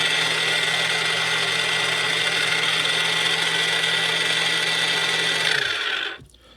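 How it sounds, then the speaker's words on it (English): A small power tool runs steadily off an 18V Ryobi battery through an Ecarke 200W portable inverter, a constant high whine with a low hum underneath, then spins down and stops near the end. "Amazing you can run a small power tool like that off of a little Ryobi battery in an inverter."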